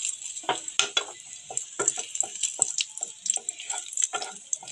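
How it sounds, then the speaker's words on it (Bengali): Chopped dried red chilli sizzles and crackles in hot oil in a pan, a steady close spitting with small stirring clicks and scrapes, heard alone. "আমি একটা শুকনো লঙ্কা যেমন ছোট ছোট করে কেটে তেলের মধ্যে ফোড়ন দিয়ে দিচ্ছি।"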